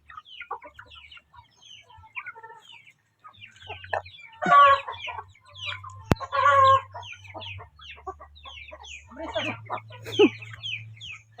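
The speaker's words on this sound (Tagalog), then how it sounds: "manok na gid atong mabaligya" Chickens cluck and squawk close by in irregular bursts, with low hum and scattered quieter clucks between the louder calls.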